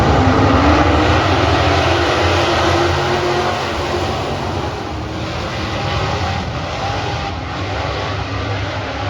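Straight stock race cars roar past at Magnolia Motor Speedway, Mississippi, a dense, steady wall of engine noise swelling and easing as the pack runs, with no talk.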